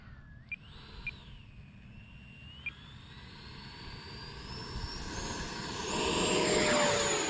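An E-flite Viper RC jet plane flies overhead, its ducted-fan whine climbing steadily in pitch and swelling louder against outdoor wind rumble, with a few sharp clicks early on.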